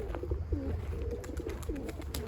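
Pigeons coo softly in a few short, rolling calls over a low background hum, fairly quiet and somewhat distant.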